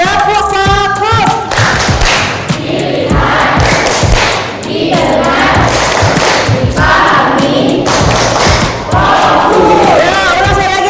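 A classroom of students performs a rhythmic focus clap pattern, with loud, close claps and thumps in quick bursts while voices chant together in unison.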